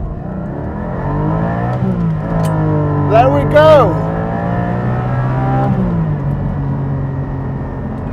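A Porsche 718 GT4 with a manual gearbox revs hard on launch control, the engine climbing and holding high before dropping as the clutch is released, loud and close with someone speaking briefly.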